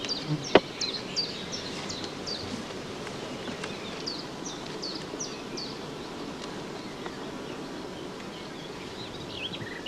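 Honey bees buzz steadily over their hive frames during a brood nest inspection, a dense close hum with individual bees flitting past, plus a sharp knock or two near the start.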